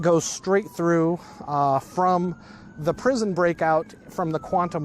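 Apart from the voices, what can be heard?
No everyday noise stands out behind the speech.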